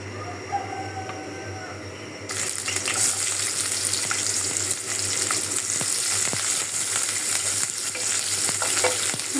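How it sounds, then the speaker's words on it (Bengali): Onion is tipped into spices in a pan before meat is added, and the sizzle rises sharply partway through, then continues as a loud, close frying hiss with clinks and scrapes of stirring. "মশলার সাথে পেঁয়াজটা দিয়ে দিলাম।"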